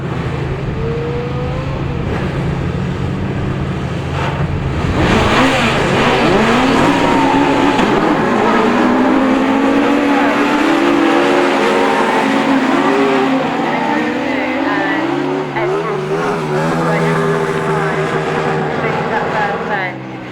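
Autograss race cars at a St Neots meeting rev and accelerate, engine notes rising and sweeping as cars pass, with a commentator talking over the racing.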